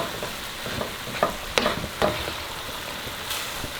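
Marsala sauce for chicken marsala bubbles and sizzles in a pan close up, a steady frying hiss broken by a few sharp pops and spatters, with no talking.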